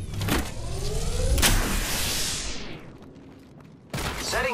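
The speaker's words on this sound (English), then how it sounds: "Recharging my shields." A shield recharge sounds in the Apex Legends battle royale game. A loud whooshing electronic charge builds and fades over about three seconds, and a sharp burst of game noise follows, with no talking.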